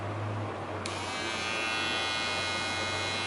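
New Wahl cordless detailer hair trimmers switched on for the first time, giving a steady, fairly quiet electric buzz that holds evenly with no talk.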